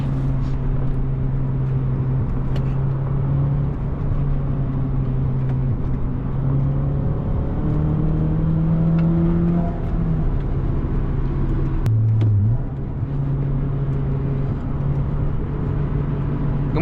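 A 2006 Acura TSX with a manual gearbox and aftermarket suspension drives uphill on a mountain road, its engine drone steady and close inside the cabin, with the pitch rising and dipping as it shifts gears, no talking.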